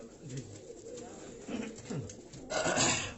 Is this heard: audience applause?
no